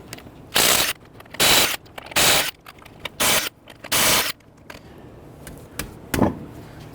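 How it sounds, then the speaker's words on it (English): A 21mm socket on a wrench loosens and removes lug nuts from a 2011-2017 Nissan Quest wheel, giving a series of loud ratcheting bursts roughly a second apart with short pauses between, close up and without talk. "Using a 21mm socket, loosen and remove your lug nuts."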